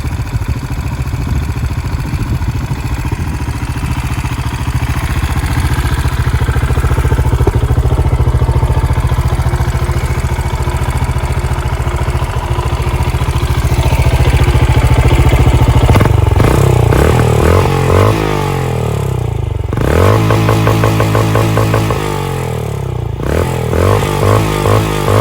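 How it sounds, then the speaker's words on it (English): A QJ SRC500 500cc motorcycle idles with a steady, loud, close exhaust burble, then revs up several times in sharp rising and falling bursts before settling back to idle. "I have not really fired up the bike for you to listen to the exhaust note."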